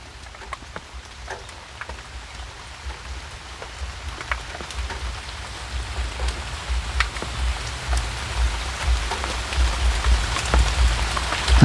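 Steady rain patters on and around a tent at a rural campsite, a dense hiss with scattered drops that slowly grows louder, with no voices.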